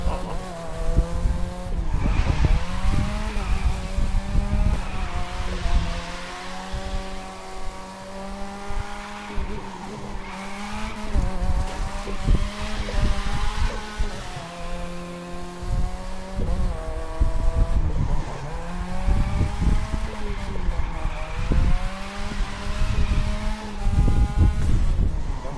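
A Lamborghini drift car in a video game, its engine revving and falling in repeated waves while tires squeal through long slides, loud and continuous throughout.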